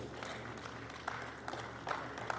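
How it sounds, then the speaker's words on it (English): Applause from an audience at a book presentation, a steady broadband wash of clapping with a few sharper peaks, fairly distant and moderately quiet throughout. "A round of applause for all of them,"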